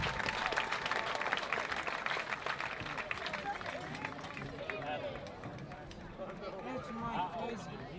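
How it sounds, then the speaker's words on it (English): Crowd applause and cheering at a high school football game between Mena and Pottsville, a broad, sustained wash of clapping and voices from a large stadium crowd, steady throughout with babble underneath. "Let's please give them a big round of applause."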